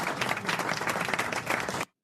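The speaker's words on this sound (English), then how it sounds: "It's a round of applause" Round of applause from a small group, quick overlapping claps close by that run steadily for under two seconds and then cut off abruptly.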